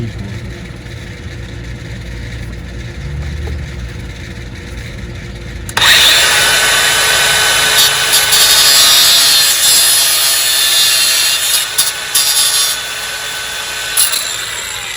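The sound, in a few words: grinder sanding thermostat housing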